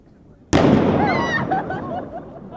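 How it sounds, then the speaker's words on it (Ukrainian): A TNT-filled suitcase is detonated in a controlled blast during a rescue training exercise at a university, a single sudden loud bang followed by a long, rumbling, crackling decay. "Вибухівку переміщають на безпечну відстань і ліквідовують."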